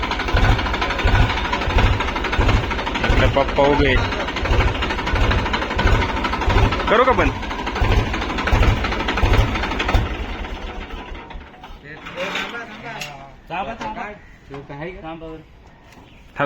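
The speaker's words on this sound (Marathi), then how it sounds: "टेस्टिंग चालू आहे ट्रॅक्टरची" A tractor engine running during a test, chugging in a steady, loud rhythmic thump that fades away midway, with people talking throughout.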